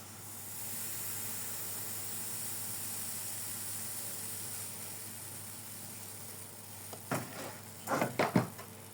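A pancake cooks in a hot pan with a steady soft hiss and sizzle, followed near the end by a few louder scraping and clattering sounds up close.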